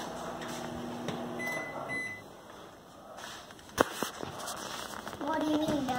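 A kitchen microwave oven humming steadily during cookie baking, with a sharp crackle or pop midway and electronic beeps toward the end, under children and an adult talking.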